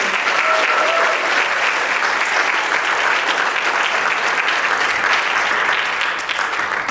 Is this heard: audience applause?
yes